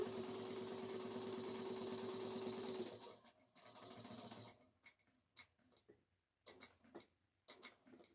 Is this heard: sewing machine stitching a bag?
yes